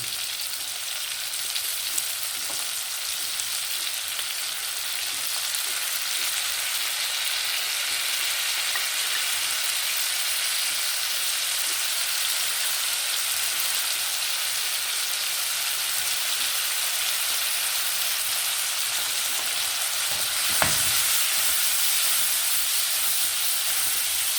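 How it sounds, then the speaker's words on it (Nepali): Ginger garlic paste fries for a chicken curry, a continuous, even hiss of hot oil that holds steady throughout, with a single brief knock near the end. "यसलाई टस गरेर हामीले एकछिन भुट्छौँ।"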